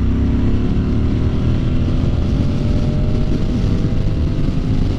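A 2023 Moto Guzzi V100 Mandello S motorcycle accelerates with a loud, continuous engine drone and a slowly rising pitch, steady and close throughout.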